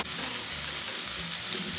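Purple-tinted broth with yakisoba noodles to be added next bubbles and sizzles steadily in a pan, a continuous close hiss with no speech.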